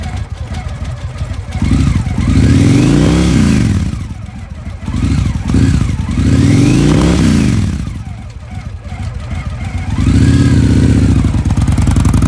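A used 2006 Victory Jackpot 100ci V-twin custom cruiser motorcycle runs close by, loud and throaty, its engine swelling in repeated revs and easing back between them, with a rough clattering edge.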